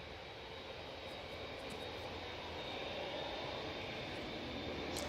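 A Qatar Airways jet departing Manchester Airport for Doha, heard as a steady, distant broadband roar of jet engines that swells slightly over a few seconds, with no voices.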